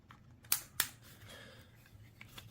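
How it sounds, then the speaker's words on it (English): Plastic mount clipping onto the bottom of a DJI Osmo Pocket 3 handheld camera: two sharp close snaps about a quarter second apart, followed by faint soft handling clicks in a quiet room. "this clips onto the bottom of the camera like so"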